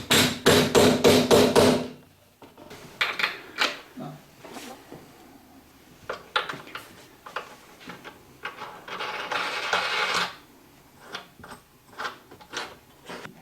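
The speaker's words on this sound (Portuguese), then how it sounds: "agora eu vou fazer um furo aqui, encostado nesse limite, e colocar o parafuso com a manopla" Drill boring a hole through a wooden part of an adjustable multipurpose trestle, a close rapid rattling burst at the start, followed by irregular knocks, clatter and a second grinding stretch.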